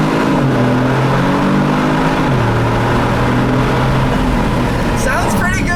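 A 2018 Kia Stinger GT engine revs hard in first gear inside a tunnel, windows down, with rising harmonic tones and a steady loud exhaust drone that echoes off the walls, climbing again toward the end.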